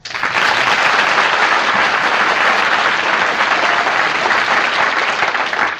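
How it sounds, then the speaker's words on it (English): Studio audience of a western radio show applauding the host's entrance, loud continuous clapping that starts abruptly and holds steady throughout. "You can always count on a good round of applause when you make your entrance."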